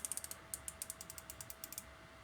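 A GearWrench socket ratchet clicking through fine adjustments: a quick run of light, close metallic pawl clicks, about twenty in two seconds, slowing slightly toward the end.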